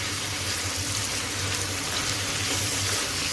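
Capsicum peppers frying in a pan over a medium to high flame, a steady close hiss and sizzle running unbroken and fairly loud, with no voices over it.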